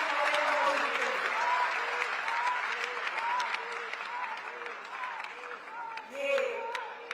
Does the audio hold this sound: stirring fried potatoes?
no